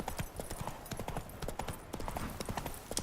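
Horse hooves clip-clop in The Witcher 3 video game, a steady, continuous trotting rhythm of sharp hoof strikes at moderate level, with no talking over them.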